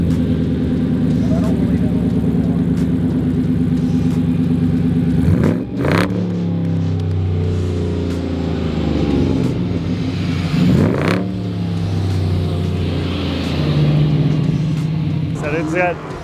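A 1971 Dodge D100 truck with a stock Gen 3 Hemi crate engine idles with a deep rumble and revs sharply twice, the bursts rising and falling, while voices talk nearby.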